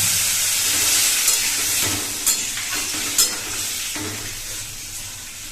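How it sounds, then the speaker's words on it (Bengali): Frying spiced vegetables in a pan as water goes in, giving a steady loud hiss and sizzle with a few sharp stirring clinks, close and continuous, slowly easing in intensity. "এবার আমি এর মধ্যে দিয়ে দেব জল।"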